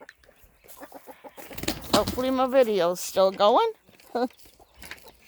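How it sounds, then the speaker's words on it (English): Chickens clucking in a coop at close range, a run of quick repeated clucks and a few longer drawn-out calls, with someone speaking briefly over them. "Here's the chickens from the other coop."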